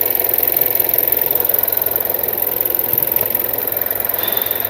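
A car engine idles up close in a workshop during turbocharger testing, making a steady, even, rapidly pulsing hum at a constant level with no voices.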